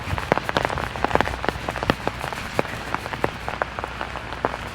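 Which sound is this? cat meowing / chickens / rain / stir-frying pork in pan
rain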